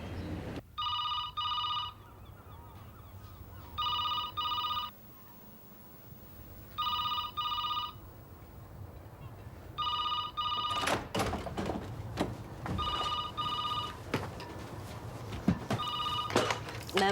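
A telephone rings in repeated double bursts at a steady interval, fairly close and clear, while a door thuds and other knocks and movement sounds break in during the later rings.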